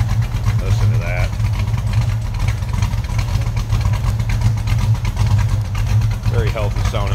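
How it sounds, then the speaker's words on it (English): A 1974 Plymouth Roadrunner with a 408 stroker V8 built from a 360 idles with a steady, deep, lumpy rumble throughout, while someone talks briefly over it. "Very healthy sounding engine. And again, 408 stroke from a 360."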